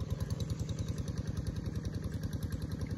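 Tractor engine running in a rice paddy, a steady low chugging mid-sized motor with rapid even firing pulses, fairly close and continuous without speech.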